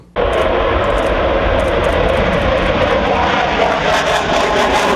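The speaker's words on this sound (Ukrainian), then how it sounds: "Один за одним у Височинь здіймаються бойові літаки" Combat military jets take off one after another from an airbase, a loud, continuous engine roar that holds steady and close throughout with no voices.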